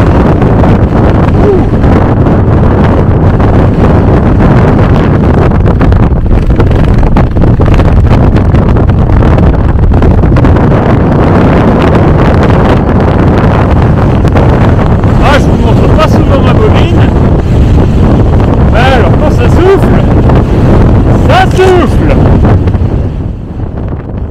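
Strong wind gusts buffet the microphone on an open Pyrenees mountain pass near Andorra, a loud, continuous roaring rumble that barely eases over nearly half a minute.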